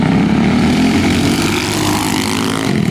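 A twin-engine go-kart boosted to 45 horsepower roars loudly and continuously at high revs, a dense buzzing drone close by with no pauses.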